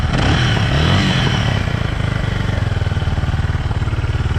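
A repaired Zongshen ZS250GS motorcycle engine runs loud and close, its rough roar settling into a steady, pulsing idle with a rhythmic clatter.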